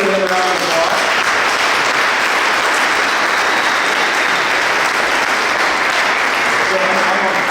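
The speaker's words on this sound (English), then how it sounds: "Let's give him a round of applause." At a company summit, an audience gives sustained, loud applause, with dense clapping and a few cheers holding evenly for several seconds. Faint voices can be heard at the very start.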